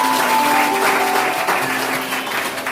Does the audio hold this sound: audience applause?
yes